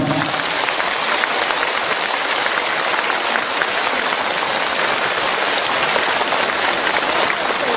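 A large crowd at a Buddhist dharma assembly in Hong Kong applauds the attending monks, a loud, sustained wash of many clapping hands that holds steady from start to finish with no speech over it.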